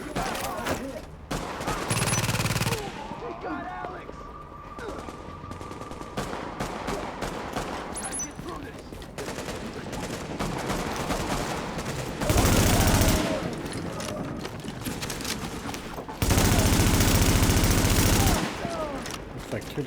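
Gunfire crackles through a long stretch, mixing scattered single shots with dense, loud bursts like an exchange between two groups fighting in a road, over steady background noise.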